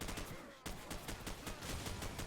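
Grenade explosion in the Call of Duty: Modern Warfare video game: a loud, dense burst of blast and crackling gunfire-like noise that briefly dips, then surges again and sustains to the end.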